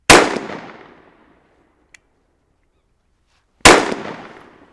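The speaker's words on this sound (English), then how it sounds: "Got a couple of misreads there, so I'm going to fire a couple extra shots." Two sharp, loud gunshots from a KelTec P17 pistol firing CCI Uppercut .22lr defense rounds, about three and a half seconds apart, each followed by a short decaying ring, with a faint click in between.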